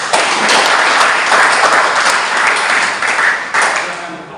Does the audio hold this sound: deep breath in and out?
no